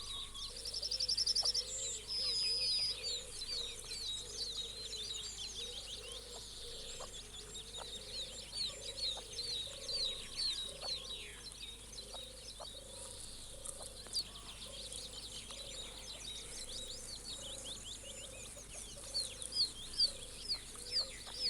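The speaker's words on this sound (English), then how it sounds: "As this female hatches her family, the cockbird crouches beside her to offer the chicks additional protection." English partridges at a nest where a hen is hatching chicks, with the cock bird close by: a steady run of soft, rhythmic clucking calls and high thin chick peeps over a quiet countryside background, no talk.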